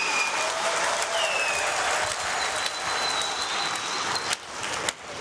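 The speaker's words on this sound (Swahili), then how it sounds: "Tujipigie makofi kwa wote tunaosema ndio." Members at a Young Africans (Yanga SC) club meeting break into dense, sustained applause that fills the room, then thins into scattered claps.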